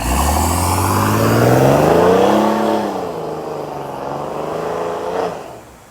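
A Mercedes E320 3.2 diesel revs up through a remote-controlled performance exhaust valve kit, a deep, rumbling exhaust note, pitch rising then falling and easing off near the end, loud and close.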